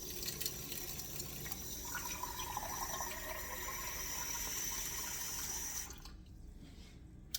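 Warm water pours from a kitchen faucet into a measuring cup in a steady rushing stream for about six seconds, then cuts off, leaving quiet room tone.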